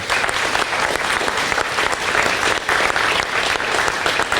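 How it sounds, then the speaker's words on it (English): Audience applause for honoree Chris Brown, an officer with the North Dakota Department of Corrections and Rehabilitation: sustained, dense clapping from a crowd, steady and fairly loud from start to finish. "let's give one last round of applause to our honoree today, Chris Brown"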